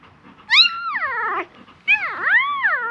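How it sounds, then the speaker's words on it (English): A newborn puppy gives two drawn-out, wavering whines, each rising then sliding down in pitch, close and fairly loud with a short pause between them. "Very chatty, this puppy, isn't it?"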